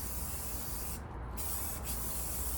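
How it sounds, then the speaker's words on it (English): A spray can lays down a primer coat in a long continuous hiss, close and steady, with two brief dips where the spray pauses while being swept back and forth. "you want to spray it back and forth like this"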